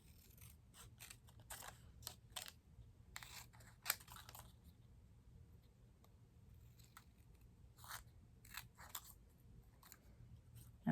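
Scissors snip through cardstock by hand for a Stampin' Up! gatefold card, a series of quiet, close, crisp cuts in quick clusters separated by brief pauses, no speech.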